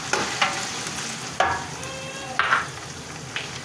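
Ginger paste, cumin and cinnamon fry in hot oil for a vegetable pulao, a steady close sizzle with a few brief stirring scrapes and clinks against the pot, and no voice.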